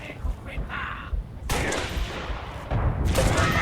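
Bursts of distant-sounding gunfire from the video game Halo: Reach on PC rattle in short volleys over a low rumbling background, with louder crackling stretches toward the end.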